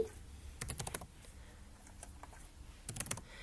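Two short bursts of typing on a computer keyboard while answers are entered into an online test, quick close key clicks separated by a quiet pause, with no speech.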